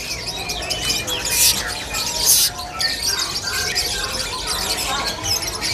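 Caged songbirds calling at a busy Indonesian bird market, bright chirps and squeals rising and falling over a steady murmur of crowd noise, with a couple of louder shrill bursts standing out near the front.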